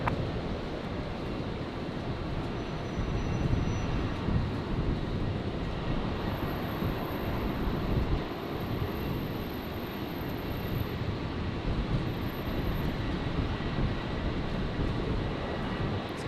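A Qantas airliner at Brisbane Airport rolls for takeoff on its way to Sydney, a steady broad engine roar holding loud and constant throughout with no voices over it.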